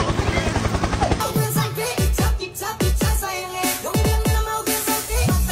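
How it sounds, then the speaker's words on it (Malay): A helicopter thunders loudly and steadily, its rotor beating in a rapid rhythmic pulse broken by repeated sharp whooshing thuds, with no talk over it. "Helikopter, helikopter."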